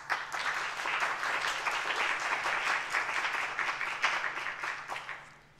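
Audience applause at a university three-minute thesis competition, steady many-handed clapping for about five seconds before tapering off at the end.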